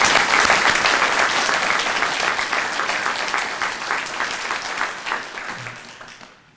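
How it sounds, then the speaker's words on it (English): Dense, steady audience applause at a university president's retirement ceremony, loud and continuous from a large crowd, slowly easing off toward the end. "Let's give those 3 another round of applause."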